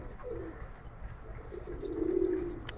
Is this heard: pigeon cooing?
yes